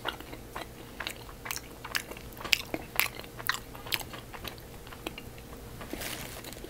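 Someone bites into a Lindor salted caramel chocolate truffle and chews it close to the mic, making repeated soft crunches and wet chewing clicks in an uneven rhythm with no speech.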